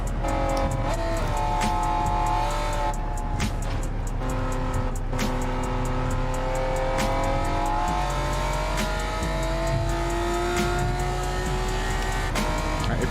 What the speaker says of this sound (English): It is a VTEC, so it wants to be in like high RPMs all the time.